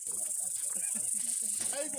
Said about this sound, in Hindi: और ये सांप की आवाज़ भी आ रही है जी।